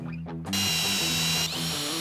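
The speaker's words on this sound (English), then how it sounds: "I drill out 1/2-inch holes where I'll insert some decorative wooden caps" A power drill boring a half-inch hole into the wood of a toybox, starting with a couple of short motor bursts, then one loud sustained whine that drops in pitch as the bit bites into the wood.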